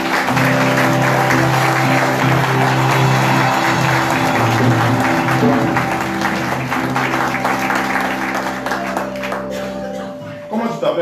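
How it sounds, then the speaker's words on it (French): A church congregation applauds and cheers in praise of the Lord, a steady, loud wash of clapping and voices over sustained music that thins out near the end. "Acclame le Seigneur"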